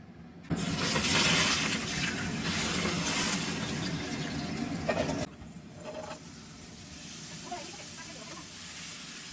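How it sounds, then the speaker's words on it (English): Water poured away in a home kitchen makes a loud, splashing hiss for about five seconds, then cuts off abruptly. Quieter sounds and brief voices follow. "pour the water away"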